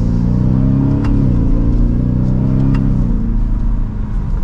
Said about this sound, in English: now it is time to get this truck out on the road. And in sport mode, here we go